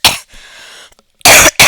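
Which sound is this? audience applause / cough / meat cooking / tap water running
cough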